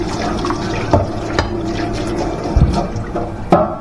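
Tap water runs steadily into a kitchen sink while a dirty plate is washed, a continuous splashing wash with a few sharper clatters and knocks of the dish, close and fairly loud with no talking.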